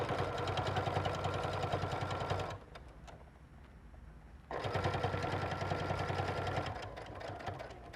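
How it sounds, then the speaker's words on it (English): Domestic sewing machine stitching a 5/8 inch shoulder seam on a garment lining, with a short back tack: a close, steady rapid whirring and needle chatter runs for about two seconds, pauses briefly, then resumes at the same pace with no talk. "I'm using the ruler on my sewing machine for my 5/8 inch seam allowance. And I want to back tack just a little bit"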